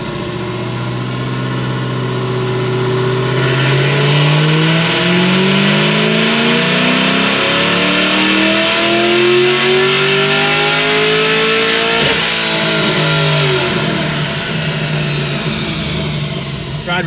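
A Whipple-supercharged Chevy SS with a valved exhaust revs up to about 6,700 rpm. The loud, close engine note climbs and holds for several seconds, then drops and rises again, with a faint voice underneath.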